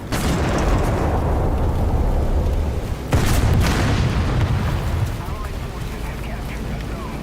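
A 40 mm Bofors gun firing in the War Thunder game, loud booming blasts with a sharp crack near the middle, over a rumbling noisy background.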